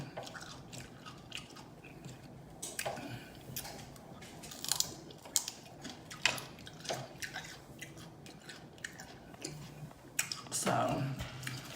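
Raw celery is chewed close to the mic in a loud smacking mukbang style. Crisp crunches and wet squishy bites come in irregular bursts, with a faint voice in the background.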